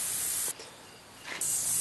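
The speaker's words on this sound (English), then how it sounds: "As you can tell, some of the water shoots down low, shoots in the middle, and shoots up high." A Rainbird 1804 spray sprinkler head sprays water with a steady close hiss that drops away briefly mid-clip, then surges back at full strength.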